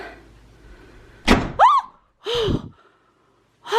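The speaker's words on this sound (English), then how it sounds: "Oh, why are these doors slamming shut?" A bedroom door slams shut indoors with one sharp, loud thud, followed by startled gasps and vocal sounds, then a quieter pause.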